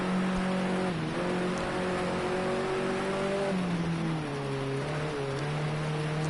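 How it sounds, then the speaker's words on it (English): In Project Cars 2, a GrandAm touring race car drones steadily through light rain, its engine tone dipping and shifting as the throttle is briefly blipped, loud and continuous with no voices. "Little burp of the throttle."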